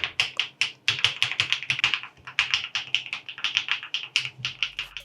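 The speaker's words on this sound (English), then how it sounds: "Overall, the keyboard sounds smooth, soft, and consistent, making it comfortable to use in both home and office environments." Typing on an Epomaker Tide Alice ergonomic keyboard with linear switches, with dense, even bursts of soft keystrokes clattering continuously and close up, and no voices.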